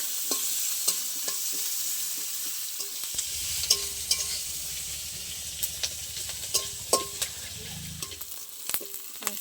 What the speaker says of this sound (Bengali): এবার একটু লাল লাল করে ভেজে নেবো পেঁয়াজ।